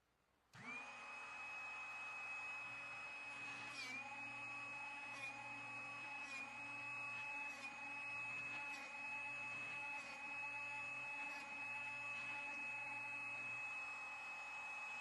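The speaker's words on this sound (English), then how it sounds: "Now, watch as a bit is aligned," A Drill Doctor 350X drill bit sharpener runs with a steady motor whine and high tonal hum, with faint periodic grinding ticks as a bit is turned against the wheel, close and continuous.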